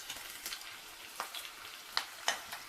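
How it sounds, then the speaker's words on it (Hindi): Okra frying in hot oil for a crispy bhindi masala: a steady broadband sizzle with a few sharp crackles and scrapes of stirring, heard alone at moderate loudness. "अब हम इसमें भिंडी डाल के अच्छे से इसको फ्राई कर सकते हैं।"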